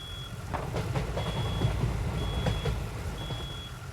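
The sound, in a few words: fire alarm beeping in a firefighting video game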